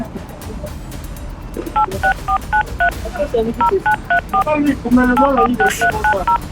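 A mobile phone keypad sends a run of clear DTMF dialing tones, one short beep per digit in quick bursts, while people talk nearby and a car passes.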